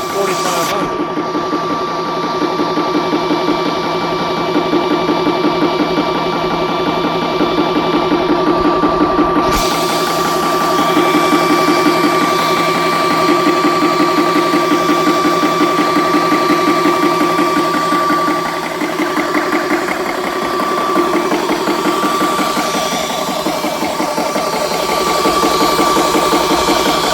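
A VEVOR PCP air compressor filling an air gun from 3,000 psi, a loud, steady mechanical chugging hum that runs continuously up close, with a high whine cutting out early.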